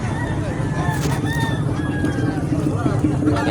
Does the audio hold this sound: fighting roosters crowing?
yes